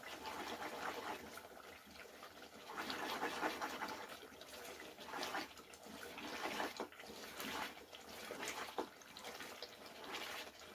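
Water poured into a cooking pot of potatoes, a steady close splashing wash that rises and falls in loudness for the whole stretch, with no talking.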